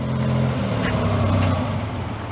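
Corvair-powered dune buggy engine idling steadily after being cranked up, a loud, close, continuous low rumble with slight rises in revs throughout.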